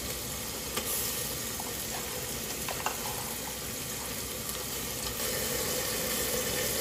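Ginger garlic paste fries with softened onions in a pan, giving a continuous, even sizzle and hiss with a few faint clicks of stirring.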